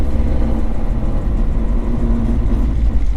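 Honda CRX with a B20 VTEC engine driving on the road, a loud, steady mid-pitched engine drone with low rumble and a slight, wavering throttle, heard alone.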